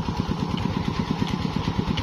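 Motorcycle engine running steadily while riding along a village road near the Pakistan–India border, a loud, continuous throbbing drone with a rapid pulsing rhythm close to the microphone, with no speech over it.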